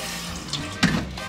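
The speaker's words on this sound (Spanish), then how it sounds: "Le voy a poner media taza de agua." Half a cup of water poured into a pot sitting on the stove, heard as a short, faint splash about a second long with no voices.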